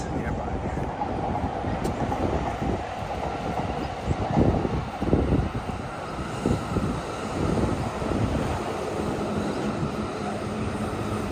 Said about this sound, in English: As you can see, we are very close to the train tracks.